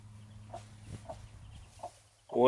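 Free-range chickens cluck softly outdoors in a few short, scattered calls over a low hum, and a louder sound cuts in abruptly at the very end.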